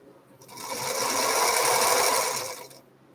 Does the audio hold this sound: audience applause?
no